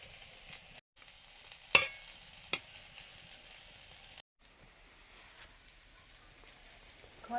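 Pangas fish pieces going into a pan of boiling sour gravy with green chillies: a faint, steady sizzle with a couple of sharp utensil clinks and soft stirring sounds, heard close but quiet.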